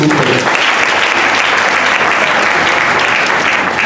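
A congregation at a church graduation ceremony breaks into loud, dense applause that holds steady throughout, close and continuous with no pauses.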